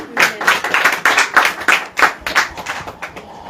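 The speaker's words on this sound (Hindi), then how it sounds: "ताली बजाओ" A congregation at an evening church meeting claps together, loud close hand claps in a loosely rhythmic pattern, a few people striking in rough unison and tapering slightly toward the end.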